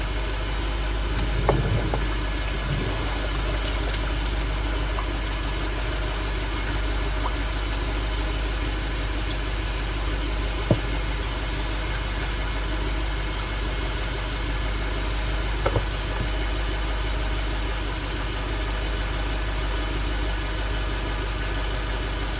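A Lexus LS430 engine idles with a steady low hum during a transmission drain and fill, broken by a few faint mechanical clicks and taps.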